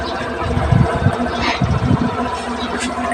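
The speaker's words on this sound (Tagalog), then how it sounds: "Naandar na yung motor ko guys." A Suzuki motorcycle engine idles up close, a steady low rumble with slight irregular pulsing and no talk over it.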